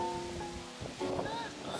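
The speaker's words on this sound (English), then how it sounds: "It's so windy." Strong outdoor wind buffets the microphone in gusty, rumbling bursts, loud and close, with no clear speech over it.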